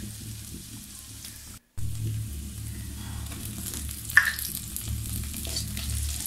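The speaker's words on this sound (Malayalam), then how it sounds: "ഉലുവയിട്ട് പൊട്ടിച്ചിട്ടുണ്ട് വെളിച്ചെണ്ണയിൽ, അതിനുശേഷമാണ് ഉള്ളി ഇട്ട് കൊടുത്തത്" Onion and fenugreek seeds fry in coconut oil in a pan with a soft, steady sizzle, broken by a sharp stirring clink and some scraping.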